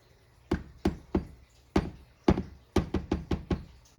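A spoon stirs honey garlic chicken wings with jelly in a roaster oven, giving about nine sharp knocks against the pan in an uneven rhythm, close and fairly loud with quiet gaps between.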